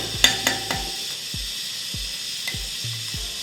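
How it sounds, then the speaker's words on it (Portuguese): Corn kernels hitting a hot buttered frying pan, a constant close sizzle broken by a string of sharp pops and knocks spaced irregularly throughout, without any talk. "nosso milho está pronto para ir para a frigideira"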